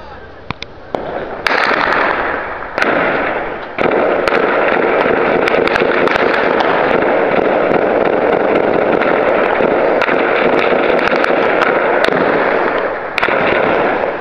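Random gunfire on a city street in Al-Atarib near Aleppo: sustained loud crackling bursts of shots with sharp cracks scattered throughout, nearly unbroken for the whole stretch and with no voices.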